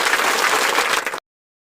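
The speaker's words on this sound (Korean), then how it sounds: "박수는 있지만 환호성은 없네요" Audience applause at the 2022 Yeonwoo Movie Awards: steady, dense clapping with no cheering or shouts, filling the room evenly for about a second before cutting off abruptly.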